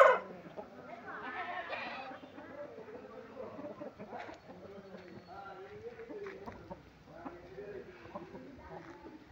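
Chickens on a poultry farm cluck softly and intermittently in the background while someone talks steadily over them.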